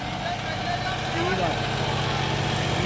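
A John Deere 5210 tractor on radial tyres runs in first gear, its engine holding a steady low drone throughout with voices talking over it.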